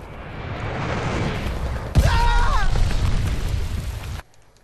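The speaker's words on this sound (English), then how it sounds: "Got an enemy glide bomb." An enemy glide bomb blows up in Call of Duty: Vanguard, a loud booming blast that lands mid-clip over constant rumbling battlefield noise, then cuts off sharply near the end.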